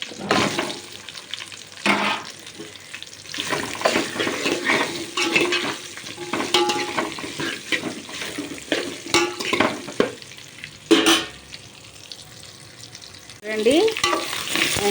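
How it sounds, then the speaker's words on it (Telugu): Bottle gourd and onion pieces fry in hot oil with a steady crackling sizzle, broken by occasional scrapes and stirs of a spatula against the pan, close and fairly loud with no talking. "చక్కగా ఆయిల్లో వేగిపోతున్నాయి ఉల్లిపాయలను సొరకాయ ముక్కలు"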